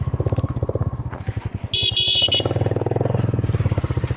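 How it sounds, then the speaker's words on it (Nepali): A Bullet motorcycle rides past in the hills of Bajhang, its engine thumping in a steady low pulse, with a short high whine midway, loud and close throughout. "सो बाइक उहाँ चलाउँदै हुनुहुन्छ"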